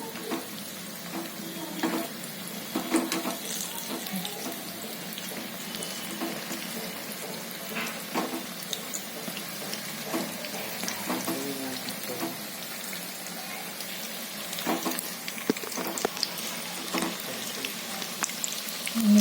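Chilli bhajis fry in hot oil with a steady, crackling sizzle like light rain, moderately loud and continuous, with occasional sharper pops and no speech.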